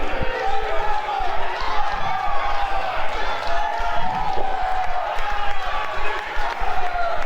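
Crowd noise at a steel cage wrestling match roars steadily throughout, cheering and shouting in a dense wash, with a commentator talking over it and occasional impacts in the ring.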